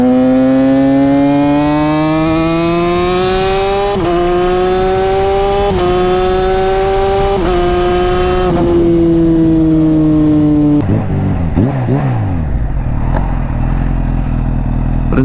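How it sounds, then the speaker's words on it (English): A Kawasaki Ninja H2 engine revs up and down repeatedly, its exhaust note rising and falling loudly and close, then dropping to a rough idle. "we're going to be putting out some great videos of this exhaust and the noise it makes"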